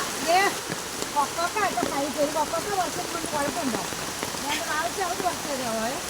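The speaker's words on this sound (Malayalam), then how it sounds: "ഭയങ്കര മഴ" Heavy rain hisses steadily on surfaces while a person talks over it, the downpour continuous and loud throughout.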